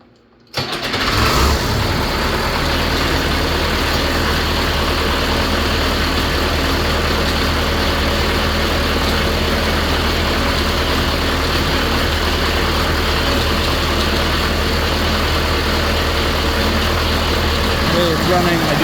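A John Deere 2020 tractor engine cranks and catches almost at once, then idles steadily and loudly for the rest of the stretch, a close, continuous mechanical drone with no pauses.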